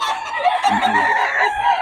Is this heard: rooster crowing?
yes